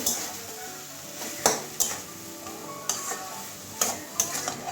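Papaya and fish head curry is stirred in a pan over low heat, with a series of distinct spoon knocks and scrapes against the metal over a faint background sizzle.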